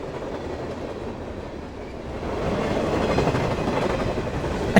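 A train runs along rails with a steady rumbling roar and faint rhythmic clatter, growing slightly louder toward the end, heard alone without voices.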